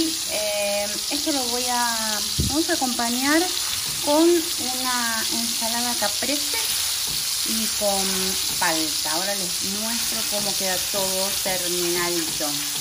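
Bacon and burger patties browning in a frying pan, a steady close sizzle running continuously beneath someone talking throughout.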